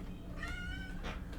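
A kitten meows close by in a short, rising-and-falling call, with a second brief mew right after it, set against a low steady background hum.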